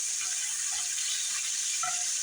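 Sausage sautéing in a pan on high heat, a steady dense sizzle with a couple of faint clinks, close and continuous with no talk.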